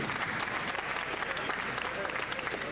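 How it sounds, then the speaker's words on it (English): Crowd at a 1996 Tokyo Bay boxing event applauds the losing fighter, Marcus Rhode, with sustained dense clapping heard from a distance throughout. "A round of applause for his opponent,"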